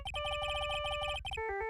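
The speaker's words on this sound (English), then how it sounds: "And I bet it was this ringtone that caused it." Phone ringtone from the Phoenix Wright: Ace Attorney video game, a rapid chiptune-style electronic ring of repeated beeping bursts that shifts to a different tone at the end, clear and alone.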